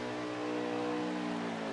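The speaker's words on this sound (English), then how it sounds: "So Johnny, who has turned his engine back on conveniently, now I can hear engine noise" A race car engine revs in a racing video game during a league race at Charlotte, a steady droning motor tone held throughout with no voices.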